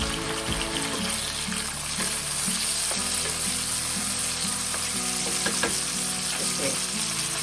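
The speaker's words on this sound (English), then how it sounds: "We're going to wait until this egg is kind of halfway cooked." An egg frying in a pan for pad thai gives a loud, constant close sizzle and crackle, with a few faint clinks and a low background hum running underneath.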